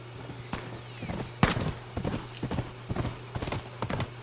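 A horse's hooves clip-clop in a quick, steady rhythm in the game The Last of Us, close and fairly loud, with a few louder thuds along the way.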